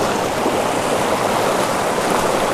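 Fast-flowing creek water rushes in a constant, dense, even wash of sound, close and steady throughout with no voices.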